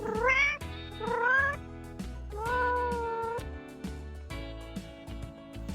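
A kitten meows repeatedly, three or four rising, drawn-out cries, close and clear, with quieter rustling between them.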